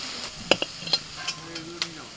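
A spoon stirs food in an iron kadai, a few distinct scraping clinks over a soft sizzle, close by, with a voice talking over it.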